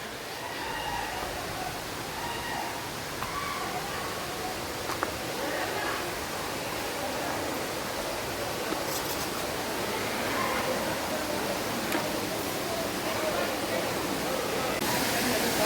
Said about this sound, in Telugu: వాటర్ ఫాల్ దగ్గరికి అయితే వచ్చేసాము